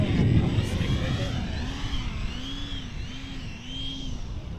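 A Dynam Gloster Meteor twin 70mm electric ducted-fan RC jet on 4S floats in at low throttle, a steady whine rising and falling in gentle sweeps under continuous nearby outdoor noise, with people talking.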